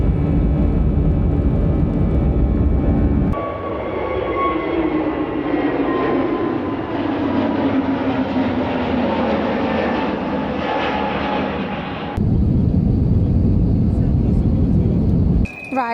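Steady, loud airliner cabin drone during a flight to Manchester, a continuous engine roar with a shift in tone partway through, as a voice speaks briefly.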